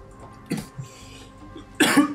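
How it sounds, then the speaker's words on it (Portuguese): A person coughs, with two short sharp bursts: one near the start and a louder, harsher one near the end, close and alone with faint background noise between. "Tosse."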